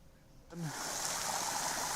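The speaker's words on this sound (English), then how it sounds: "you can see how beautiful the little waterfalls are here" Little waterfalls at Glenburn in Gauteng, South Africa, give a steady rushing, trickling wash that starts abruptly and then continues evenly at moderate distance, with a brief faint sound near the onset.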